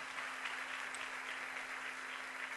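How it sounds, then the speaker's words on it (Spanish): A seated audience at a motivational talk applauds in a steady, dense wash of clapping that holds evenly throughout, fairly soft and distant, with a faint electrical hum underneath. "Aplaudí bien fuerte por eso."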